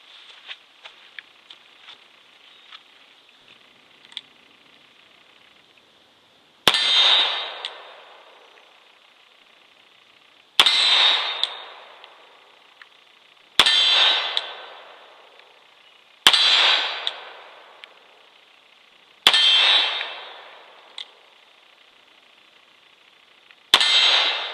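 Shots from a Webley Mk VI revolver hitting steel targets at 15 yards: six loud, sharp bangs each followed by a bright ringing clang, spaced a few seconds apart after a stretch of quiet.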